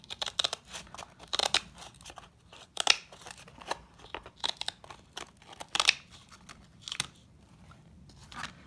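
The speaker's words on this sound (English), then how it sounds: "you can cut it with ordinary kitchen scissors into any shape you like" Ordinary kitchen scissors snip through a thin mosaic substrate sheet in a quiet room, making a series of short crisp cuts at an irregular pace, close and fairly soft.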